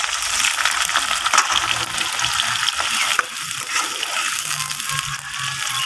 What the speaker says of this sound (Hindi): प्याज मैं भुन रहा